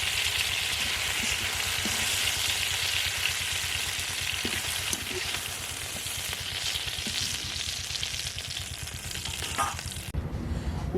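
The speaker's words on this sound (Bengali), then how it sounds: "মাছগুলো অল্প করে ভাজা হয়ে গেছে" Fish fry lightly in hot oil in a pan, a loud, dense, continuous sizzle up close with a few soft clinks, cutting off abruptly near the end.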